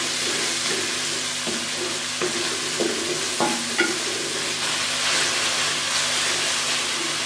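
Ginger, garlic and green chili paste fries in a pan with a steady broad sizzle and hiss, punctuated by a few soft stirring scrapes and taps.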